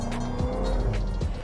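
A 2021 Jaguar F-Type R sports car with its exhaust open, a loud steady engine drone with rising and falling tone shifts, close and continuous, no voices.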